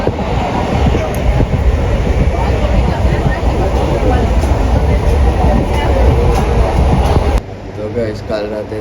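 A train rolls along with a loud, steady rumble and rattling wheels, heard from inside a carriage, until the noise drops suddenly near the end. Voices can be heard faintly under the din.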